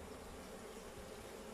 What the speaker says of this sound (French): un essaim, c'est ça, c'est une colonie d'abeilles sans forcément une structure